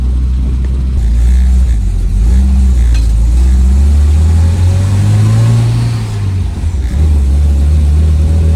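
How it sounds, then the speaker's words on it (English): A 1983 Volvo 242 engine revs loud and close with a strong low drone, rising and sagging unevenly as the carburetor stumbles through a dead spot before it picks back up. "Feels like running out of fuel. Like a dead spot in the carburetor."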